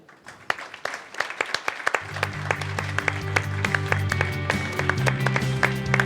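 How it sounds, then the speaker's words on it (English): Scattered claps ring out at a Yamaha motorsports media conference for the Petronas Yamaha Sepang Racing Team principal, sharp separate hand claps over a steady low hum that starts partway through. "a warm round of applause for our gentlemen on stage"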